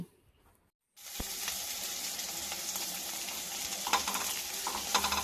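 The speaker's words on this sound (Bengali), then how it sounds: "সব কিছু একসাথে একটু লালচে কালার করে ভেজে নিচ্ছি" Large onion pieces frying in a pan for vegetable soup: after a brief near-silent pause, a steady close sizzle starts and holds, with a few stirring clicks and scrapes over it, and no talk.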